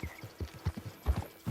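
A horse's hooves clip-clop at a brisk, even walk in Red Dead Redemption 2, with close, distinct thuds landing several times a second.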